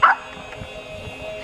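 A single short, sharp dog bark rings out right at the start, fairly close, followed by quiet room noise.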